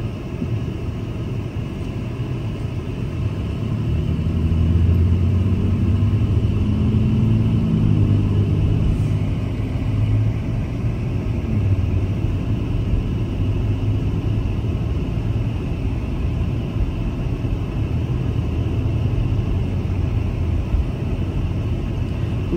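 Traffic on a road rumbles continuously, with vehicles passing in a steady low wash that swells slightly around the middle, no voices over it.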